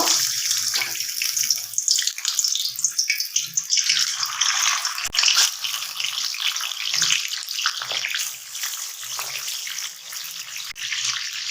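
Chicken pieces fry in hot oil in a pan, a continuous loud hiss and crackle that holds steady throughout with occasional sharper pops.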